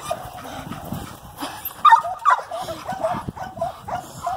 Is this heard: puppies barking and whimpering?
yes